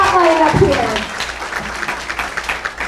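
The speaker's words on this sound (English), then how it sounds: "Give these guys another round of applause" Applause from a school musical audience for the cast, starting amid cheering voices and settling into steady, dense clapping across a hall.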